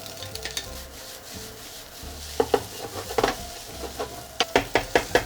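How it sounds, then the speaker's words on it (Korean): Chopped green onion stir-fried with rice in a pan, a low sizzle with rhythmic scraping and tapping of a spatula that grows sharper and more regular toward the end. "이제 다져둔 파를 넣고 살짝만 익혀주세요"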